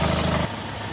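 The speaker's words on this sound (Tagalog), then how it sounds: "Walang usok, walang talsik. Ayan, wala. Ang tining pa na makina mga boss." A 2017 Hyundai Starex BGT van engine idles close by with a steady, even rumble, smooth and unbroken, with no voices over it.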